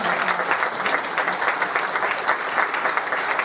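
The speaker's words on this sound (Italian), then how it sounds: "che accogliamo con un applauso" Steady audience applause welcomes a speaker taking the stage at a talk in the Veneto region, a dense, continuous patter of many hands clapping, moderately loud and even, with no voices over it.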